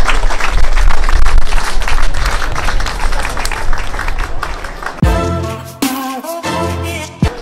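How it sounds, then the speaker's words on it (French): An audience at a speech event claps in a loud, dense burst that gradually thins, then breaks off into a few bright musical tones and scattered sounds. "je vous demanderai de les applaudir"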